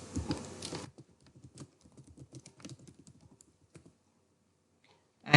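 Keys clatter on a computer keyboard as a project name is entered, a quick irregular run of close, light clicks after a brief burst of louder noise at the start, ending with a sharp sound.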